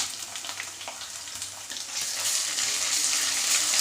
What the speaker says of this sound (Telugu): ఇది కొద్దిగా పచ్చివాసన పోయే వరకు ఫ్రై చేసుకుందాం.